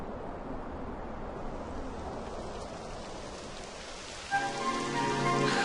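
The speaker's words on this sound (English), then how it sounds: "It would have to go and start raining, wouldn't it?" Steady rain pours down in a fantasy adventure game during a climb toward a summit, a dense continuous hiss of drops on surfaces throughout, with faint music tones entering near the end.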